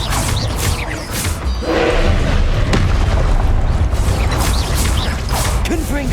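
Magical fire explosions from the Confringo spell in Hogwarts Legacy, loud booming blasts and crackling debris over continuous combat noise, with brief vocal grunts.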